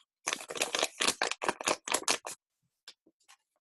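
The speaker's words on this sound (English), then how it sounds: "This is ordinary paper." Ordinary paper being crinkled in a rapid burst of crisp rustles, close up, followed by a few faint scattered crackles after a pause.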